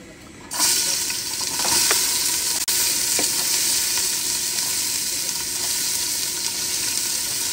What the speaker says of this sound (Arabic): الآن وضعنا زيت الزيتون، نضيف بس البصل.